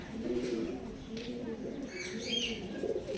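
Andhra Madras pigeons coo in low, repeated murmurs close by, with a few higher chirps and faint chatter from other birds mixed in.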